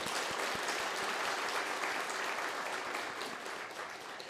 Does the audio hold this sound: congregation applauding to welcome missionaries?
yes